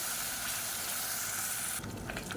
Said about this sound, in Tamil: சேர்த்துட்டு மீடியமான ஃப்ளேமில் வதக்கி விட்டுக்கலாம்